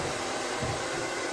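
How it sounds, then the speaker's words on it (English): A handheld hair dryer blows over vegetables held in a strainer, a steady whooshing roar with a low motor hum that stays constant and close throughout, with no talking. "when you use a hair dryer to dry your vegetables, you don't want to put it on too high"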